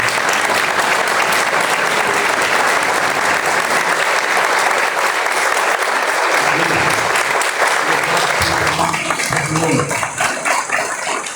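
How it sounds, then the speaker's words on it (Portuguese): A church congregation at a Quadrangular thanksgiving service applauds loudly and continuously, a dense wash of clapping that thins slightly toward the end. "eu gostaria que você se colocasse de pé e você aplaudisse Jesus na vida do servo do Senhor"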